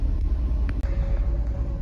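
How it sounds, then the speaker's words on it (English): A Ford truck with a C6 transmission rumbles along in low, steady engine and road noise, close and moderately loud, with a couple of faint clicks. "we'll see how the truck drives now"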